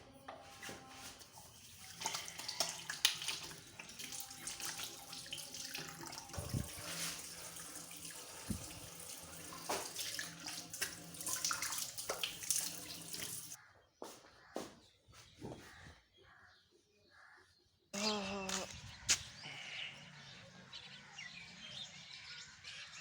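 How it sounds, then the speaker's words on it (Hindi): A bathroom tap runs into a sink during tooth brushing, a steady close splashing stream that stops and starts again in bursts, with faint birdsong in the background. "चलो दांत साफ कर लें थोड़े से"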